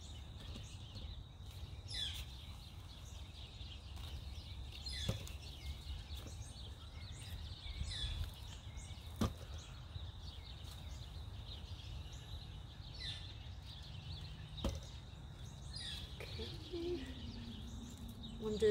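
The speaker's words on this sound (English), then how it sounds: "If you guys hear the birds out here" Birds chirp and call outdoors in mid-October, scattered faint tweets and a dove-like coo over low steady background rumble, with a few distant knocks and no clear talk.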